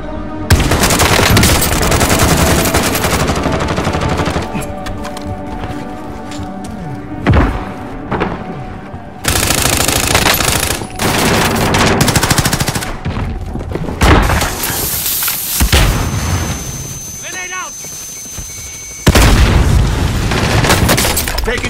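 Gunfire in Call of Duty Warzone: loud, close bursts of automatic fire and booming impacts with thuds, broken by brief gaps and mixed with game sounds over about twenty seconds.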